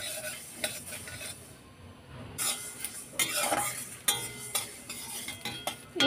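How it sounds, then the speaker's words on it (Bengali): A spoon scrapes and stirs spices dry-roasting in a dry pan, with rapid uneven scratching strokes and faint clinks, close and fairly quiet, with no voices. "মশলা শুকনো করার জন্যে শুকনো খোলায় নাড়াচাড়া করে নিতে হবে।"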